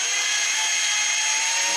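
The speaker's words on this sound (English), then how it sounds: "now to drill a hole for the wires" A power drill bores a hole for wires through a wall of a Class A motorhome, one steady whirring burst close by that cuts off at the end.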